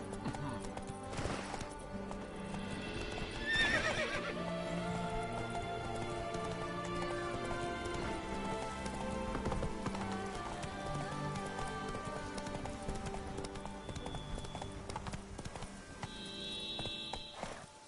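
Rapid hoofbeats of a galloping horse in The Witcher 3 pound steadily over a busy game soundtrack, with occasional whinnies and short exclamations from a voice.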